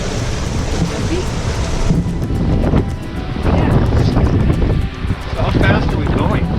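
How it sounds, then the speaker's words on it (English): Ocean waves and gusting wind buffet a cruising sailboat on a day sail from Santo Domingo to Sweet Pea Cove, a loud, close rushing roar of wind noise and water that surges and dips several times. "We've got some waves that are tossing us side to side"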